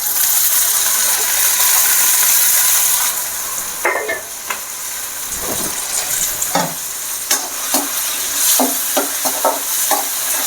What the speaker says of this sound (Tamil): அடுத்தது இதை நம்ம பீன்ஸு கேரட் போட்டுக்கலாம்